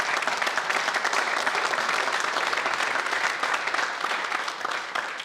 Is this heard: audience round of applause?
yes